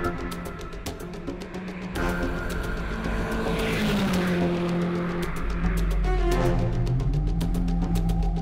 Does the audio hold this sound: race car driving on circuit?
yes